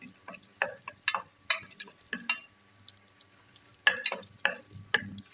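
Ginger, green chili and cumin fry in ghee for a pearl millet khichdi, producing a faint crackle beneath a series of sharp, irregular spoon taps and scrapes against the pan, heard up close with no talking.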